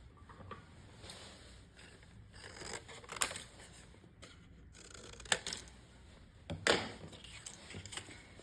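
Scissors cut paper for a small crafted mini album, quiet close snips and crisp slicing strokes repeating irregularly, with light paper rustling in between.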